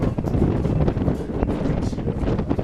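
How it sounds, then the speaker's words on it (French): Wind blows through an abandoned hotel open on all sides with broken windows, making a loud, continuous rushing buffet with gusty swells and faint rattles close to the microphone. "Si vous entendez du bruit, il y a du vent, donc c'est normal, hein, c'est ouvert de partout"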